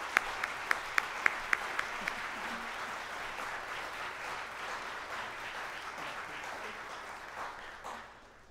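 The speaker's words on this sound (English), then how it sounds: "So let's give them a round of applause" A church congregation at a Sunday service applauds steadily, a few sharp individual claps ringing out at the start before the clapping blends into a sustained, even wash that fades near the end.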